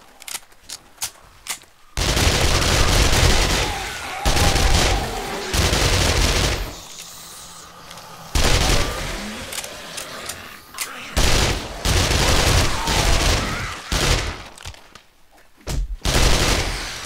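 Gunfire in the zombie survival game 7 Days to Die during a PvP battle royale match, repeated loud bursts of rapid shots with short quiet gaps and a few single cracks.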